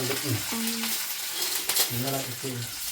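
Chili and then onion frying in a pan, a steady broadband sizzle with stirring scrapes, and a voice talking over it in short phrases at intervals.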